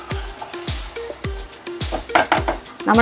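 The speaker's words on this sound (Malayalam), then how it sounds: "എന്നിട്ട് ഒന്ന് ഇളക്കി കൊടുക്കണം" Tomato fry stirred in a pan on a gas stove, a steady rhythm of spoon knocks and scrapes against the metal, with sizzling rising toward the end, close and clear, no talking.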